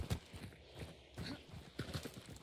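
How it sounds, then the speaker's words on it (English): Heavy, rhythmic breathing from a horse in the video game Hunt: Showdown, with faint snorting bursts repeating over a low ambient bed at moderate distance. "You can hear that horse breathing heavily."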